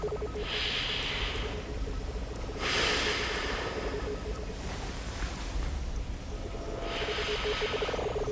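Slow, deliberate breaths repeat three or four times over a steady low hum, each inhale and exhale airy and close, as during a medical check-up.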